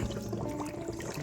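Water rushes into an underfloor heating circuit fed from a boiler during air bleeding, a steady close hiss and gurgle of flowing liquid with no talk.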